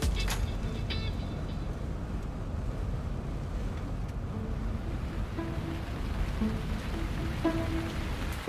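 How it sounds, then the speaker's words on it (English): Rain starts to fall during a motorcycle ride on a Triumph Speed 400 or Scrambler 400X in humid conditions, heard as a steady, close wash of patter blended with rushing wind and road noise, and a few faint tones rise over it. "It started raining."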